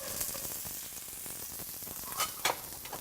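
Carrots sauteing in melted coconut oil in a pan, a soft, steady sizzle and crackle with a few brief stirring scrapes, heard close and fairly quiet.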